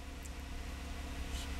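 A cold car engine runs at a fast idle, a steady low hum and drone that continues without change throughout.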